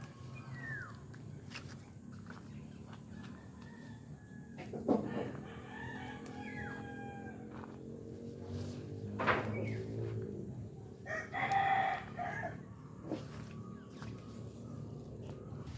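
Chickens cluck intermittently against a steady outdoor background, with a rooster crowing a few times at moderate distance.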